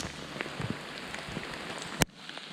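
Rain falling at Loughmacroy Lake in County Tyrone, heard from a small wooden hide on a boardwalk: steady soft patter with a few louder drops and a sharp knock near the end.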